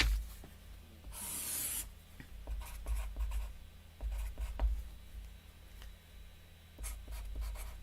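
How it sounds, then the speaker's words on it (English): Handwriting during an English writing class: a pen or pencil scratches and taps in short, irregular strokes on paper, faint and close, with a brief louder rustle of paper early on. "Let me write that one down."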